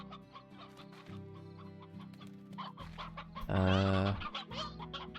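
Hens in the video game Slime Rancher cluck and squawk in a quick busy series, one louder drawn-out squawk standing out, with game music or tones underneath and a brief voiced exclamation.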